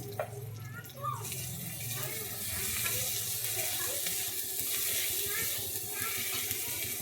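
Tomatoes frying in a pan as salt is added, a mushroom and prawn curry underway; a loud, steady close sizzle runs throughout while someone talks over it.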